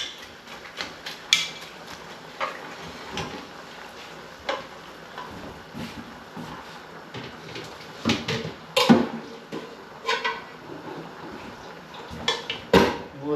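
Browned ground beef is drained from a pan for allergy-free chili, heard as scattered clinks and scrapes of metal cookware and utensils, close and irregular.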